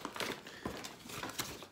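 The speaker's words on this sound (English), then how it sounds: "Let me get this package open." Crinkling and tearing of a LEGO set package being ripped open by hand, several sharp rustling bursts in quick succession, fairly close and with no talk.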